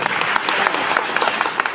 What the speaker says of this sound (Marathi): पुनश्च एकदा जोरदार टाळ्या वाजवून या मुलाचं आपण स्वागत करायचं.